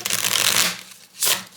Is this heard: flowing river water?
no